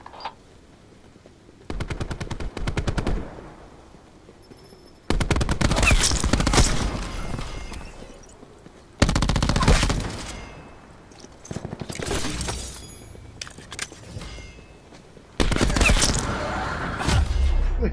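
Automatic gunfire from Black Ops 4, with a 9mm weapon, crackles in several loud bursts separated by quieter gaps, sustained rapid fire alternating with short pauses and a few lighter shots.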